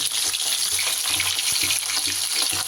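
Balia fish fry in a pan of oil with a dense, even sizzle and faint bubbling, steady and close throughout, with no one speaking.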